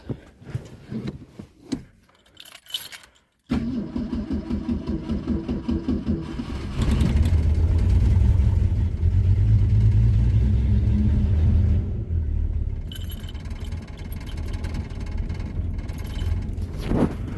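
A Ford Mustang with a weak battery and a fuel leak cranks in uneven bursts, then catches and roars under full throttle before easing into a steady, rumbling idle.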